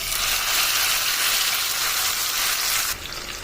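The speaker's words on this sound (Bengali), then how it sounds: "রসুনের কাঁচা গন্ধটা চলে যাওয়ার পরে আমি এখানে মাংসটা দিয়ে দিচ্ছি" Marinated chicken hits a hot wok (kadai) with a loud, steady, close sizzle of frying meat, a dense hissing roar that drops slightly near the end, with no talk.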